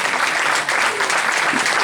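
An audience claps together in sustained, dense applause at a panel event on the Malvinas, a steady wash of hand claps filling the room without pause.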